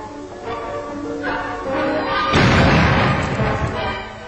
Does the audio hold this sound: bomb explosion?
yes